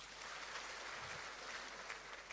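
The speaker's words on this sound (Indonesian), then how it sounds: "Tepuk tangan buat Tuhan kita" Applause in a church worship service, faint sustained clapping from the congregation with a low steady texture, heard distantly throughout.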